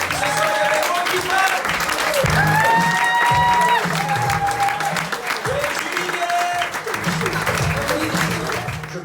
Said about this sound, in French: on va applaudir ces artistes-là